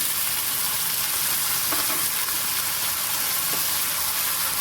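Raw banana slices dropped into hot oil with onion and asafoetida, giving a steady loud sizzle and frying hiss throughout, with a few faint stirring scrapes of a spoon in the pan.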